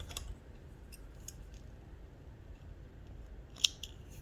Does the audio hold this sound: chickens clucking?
no